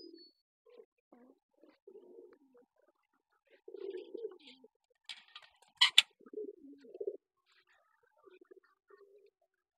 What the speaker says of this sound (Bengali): এই যে ফিল্ডব্যাক কবুতরটা, এটা দেখতে পাচ্ছেন